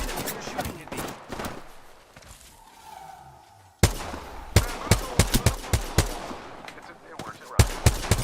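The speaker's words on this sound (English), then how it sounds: "The enemies are shooting at me." Enemy gunfire rattles through a video game as rapid bursts and sharp individual shots, loud and close, with a brief quieter lull before a dense run of cracking reports, partly under a speaking voice.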